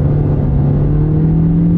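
A Toyota car pulled from about 45 mph at full throttle, its engine droning loud and steady with a rising tone, heard from inside the cabin.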